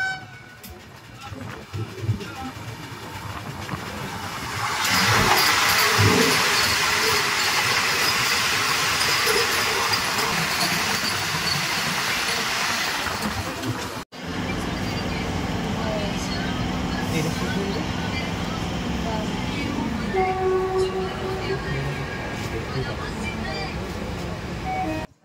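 Howrah–Puri Vande Bharat Express in India, heard as a steady loud rumble of the moving train with a broad roaring surge, continuous for the whole stretch with no clear horn.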